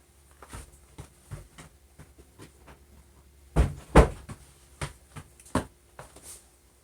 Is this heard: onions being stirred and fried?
no